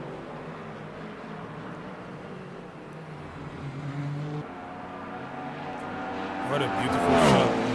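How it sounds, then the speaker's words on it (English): Race car engines from the racing game Project Vapour during an evening dash round at Bahrain, a steady engine drone that swells near the end into a rising whine as a car passes close, with someone talking over it. "These cars sound amazing."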